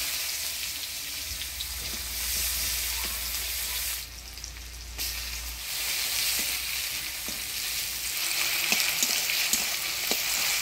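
Onion and chopped tomato frying in oil tempered with cumin, dried red chili and bay leaf, a steady hissing sizzle with occasional stirring clicks and a low hum for several seconds, no talk.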